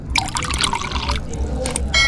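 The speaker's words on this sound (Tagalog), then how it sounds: "Maglalagay din tayo ng konting tubig." A little water is poured into a soy sauce and vinegar sauce mixture for crispy pork and tofu, giving close, steady splashing and trickling with brief pauses and a fresh burst at the end.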